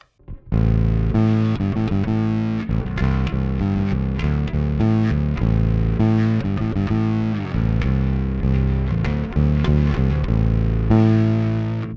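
Bass guitar runs through a Kemper Profiler with distortion blended in, playing a continuous loud, gritty line of sustained notes for about twelve seconds, alone with no voices.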